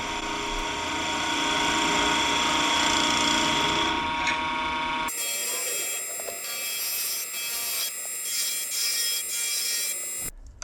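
A wood lathe spins a checkerboard pen blank while a tool cuts a quarter-inch recess for a glued-on beauty ring. The steady, close, dense cutting noise holds for about five seconds, then shifts to a thinner, ringing tone until it stops.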